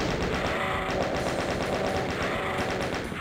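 Rapid sustained machine-gun fire from a chaingunner's chaingun in Doom 2, Map 26 of a voxel version, dense and loud throughout with no pauses.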